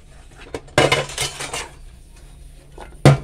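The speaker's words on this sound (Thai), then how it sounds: "ล้างจานนะทุกคนขอบอย่างเงี้ยเราก็ถูด้วยมันจะได้ไม่มีคราบอะไรติด" Dishes are washed by hand, with bowl rims scrubbed and ceramic bowls and cutlery clattering and clinking in a few loud, close bursts.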